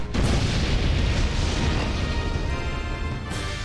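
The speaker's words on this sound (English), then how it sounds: "Have a taste of my grenades." Grenades bursting in the video game Septerra Core, a dense, loud run of booming blasts that blend into one sustained rumble, with no talk over them.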